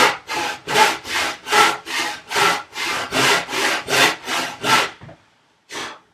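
A handsaw cuts a wooden tenon for a workbench in about eleven steady, loud back-and-forth strokes, each a rasping burst, then a brief pause and one last stroke.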